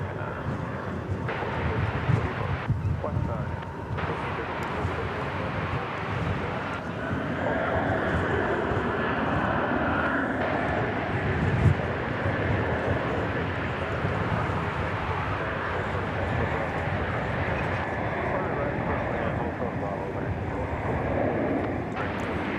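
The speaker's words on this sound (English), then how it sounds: "This is an Airbus A320, Flight 303, going to Spokane, Washington." An Airbus A320 airliner, Flight 303 bound for Spokane, Washington, is at Dallas Fort Worth airport. Its jet engines make a continuous, steady roar that swells slightly midway, with some faint talk in the background.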